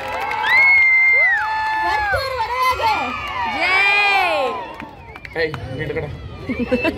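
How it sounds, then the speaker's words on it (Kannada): A village crowd at a bull procession in Ramagondanahalli, Karnataka, cheers and whoops loudly, with high excited shouts from children and adults rising and falling close by. It turns into a busier clamour toward the end. "ಎಲ್ಲರೂ ಈ ಹೋರಿಗೆ ಚಪ್ಪಾಳೆ ಮೂಲಕ ಬರಮಾಡ್ಕೊಳ್ಬೇಕು"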